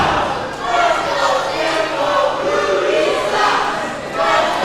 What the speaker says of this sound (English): You have the dueling Let's Go Tempo, Rudy Sucks chants.